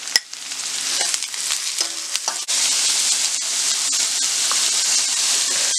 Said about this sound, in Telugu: ఒక బీరకాయని ఇలా స్మాల్ పీసెస్గా కట్ చేసుకొని వేసుకొని ఫ్రై చేసుకోవాలి.